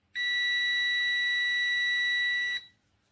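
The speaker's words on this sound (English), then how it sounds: "multimeter should show continuity or beep" A multimeter gives a continuity beep while an N-channel MOSFET is tested, one steady, piercing electronic tone lasting about two and a half seconds before cutting off abruptly in a quiet room.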